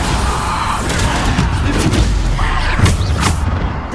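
Bombarda blasting spell in Hogwarts Legacy, several dull booming bursts close together over a few seconds, thumping and crackling against steady background noise.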